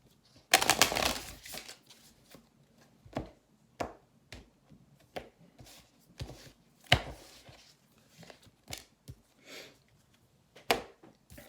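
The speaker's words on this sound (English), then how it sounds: "And last shuffle." Oracle cards being shuffled by hand in a full moon reading, a dense riffling burst at the start followed by a long run of separate soft slaps and taps at irregular intervals, close and alone without speech.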